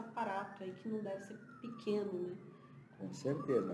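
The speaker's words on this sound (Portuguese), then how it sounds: "esse barulho que vocês ouvem ao fundo deve ter acontecido com acidente, porque o que está passando de ambulância e carro policial por aqui hoje é uma fábula" Police car and ambulance sirens wail in the background as they pass outside, a rising and falling tone sweeping behind continuous conversation in the foreground, moderately loud and steady across the moment.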